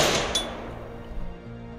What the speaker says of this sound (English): Before making any adjustments, fire one time at the center of your target